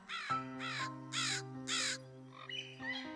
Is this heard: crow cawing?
yes